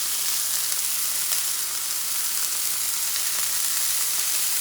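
Camel burgers frying in a pan, a steady close sizzle and crackle of hot oil continuing without a break and with no talking.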